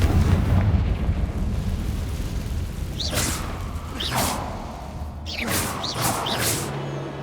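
Confringo blasting spells in Hogwarts Legacy go off as several whooshing, fiery bursts over a rumbling game background, coming roughly a second apart with a close pair near the end.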